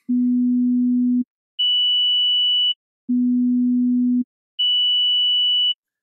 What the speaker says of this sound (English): a sine wave at 400 Hz sounds a lot quieter than a sine wave at 3000 Hz